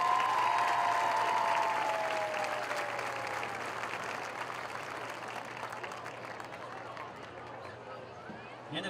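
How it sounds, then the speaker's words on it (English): Stadium crowd applauding homecoming runners-up at a Colerain High School varsity football game in 2017; broad, distant clapping and cheering across the stands, with a faint whistle-like tone early and a low hum underneath, gradually easing off. "Let's have a round of applause for Ethan Stout and Lauren Champion, your runner"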